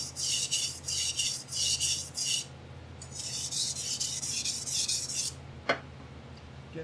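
A chef's knife is sharpened by hand on a grit stone, with repeated rasping strokes in two bursts, working the heel of the blade, followed by a single short scrape; no talking.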